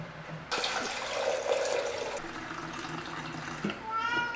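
Water from a tap runs to wash freshly developed film: a steady splashing flow that starts abruptly and continues, with a few clinks and a brief squeaky sound near the end.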